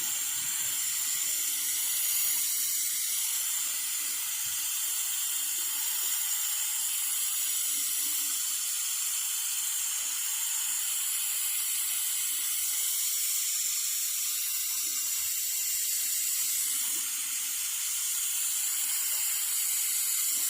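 Water runs steadily from a garden hose or sprinkler onto the soil of a home vegetable garden, a constant soft hiss at moderate distance with no talking and no pauses.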